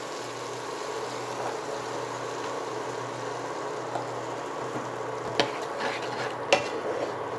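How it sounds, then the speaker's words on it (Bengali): Sajna drumstick pieces dropped into spice paste frying in a pan and stirred, a steady low sizzle with a few sharp utensil clinks and scrapes near the end. "এইবারে আমি দিয়ে দেব সজনে ডাঁটা।"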